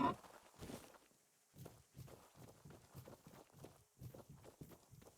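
Horse hooves in the video game Tainted Grail: The Fall of Avalon, a steady run of soft clip-clop steps at a moderate distance, fairly quiet, with no talk over them.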